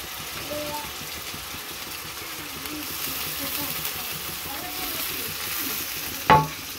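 Garlic and chilies, with onions, frying and being stirred in a pan, giving a steady close sizzle with soft scraping throughout and a brief louder clank near the end.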